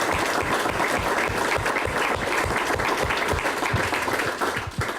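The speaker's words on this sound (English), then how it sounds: "I think we should give those folks a round of applause as well." Sustained applause from a large crowd at a marriage equality forum, dense steady clapping throughout that tapers slightly at the very end.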